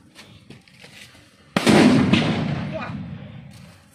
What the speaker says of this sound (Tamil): அந்த பெரிய ஆட்டோ பொம்மை வச்சு வெடிக்க போகிறோம்